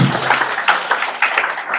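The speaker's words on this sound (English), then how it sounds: "give him a big round of applause" Audience applause at a startup entrepreneurship workshop: a broad wash of many hands clapping steadily for about two seconds, moderately loud and filling the room, with no talk over it.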